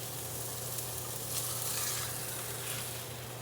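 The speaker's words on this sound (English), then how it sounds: "Love that sizzle, baby." Burger patty sizzling in a frying pan, a continuous close hiss and crackle at an even level that swells slightly partway through, with no voices.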